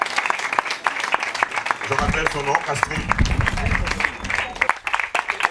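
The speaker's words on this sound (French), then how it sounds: "On l'applaudit très fort" Audience applause at a festival opening event, many hands clapping steadily in a hall while someone speaks over it through the middle.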